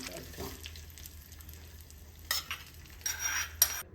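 A tempering is tipped into onion chutney: a soft crackling sizzle with stirring scrapes, then louder bursts of hissing splatter and a sharp metallic clink near the end.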